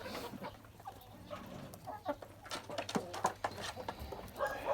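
Hens clucking in a backyard poultry yard, scattered soft clucks and calls at a moderate distance, faint and intermittent over quiet outdoor ambience.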